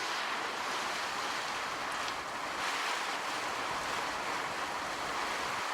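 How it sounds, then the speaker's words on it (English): Steady, dense hiss of rain falling outdoors, continuous and even throughout, with a faint gusty rush of wind underneath. "Beautiful, beautiful rain."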